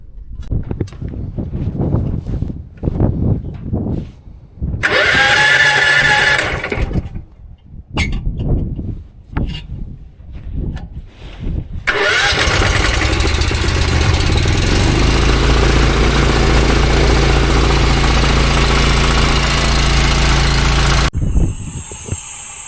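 A John Deere 7460 tractor engine starts and runs loud and steady for about ten seconds with a deep low rumble, after scattered handling noises and a brief earlier engine burst, then cuts off abruptly.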